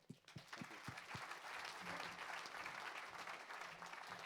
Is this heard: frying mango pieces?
no